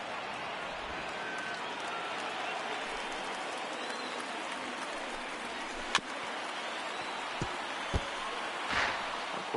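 A stadium crowd roars throughout a PS4 baseball video game as over 39,000 fans stand on their feet, forming a steady, dense wash of cheering with a few sharper pops and claps near the end.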